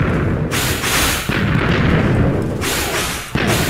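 In Minecraft, a Wither fires explosive skulls, loud repeated booming blasts in quick succession, each a broad crashing burst overlapping the last.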